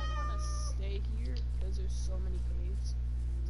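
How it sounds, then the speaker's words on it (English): A cat meows in a video game on PS4, with several short, clear, close mews repeating over a steady electronic hum, while players chatter faintly underneath. "Oh look, there's a cat."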